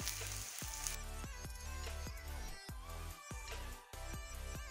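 Bathua greens go into a pan of browned fried onions, giving a soft, steady sizzle with faint crackles and rustling. The sound is close but quiet, and no one talks.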